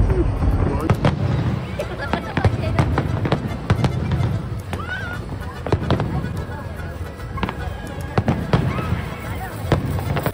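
Fireworks bursting over the Global Village at night, a steady barrage of loud pops and crackles packed closely together throughout, with crowd noise underneath.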